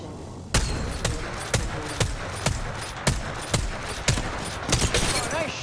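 Regular gunshots from the video game Apex Legends, around ten sharp loud cracks spaced roughly half a second apart, close and steady, with faint game ambience and no talk.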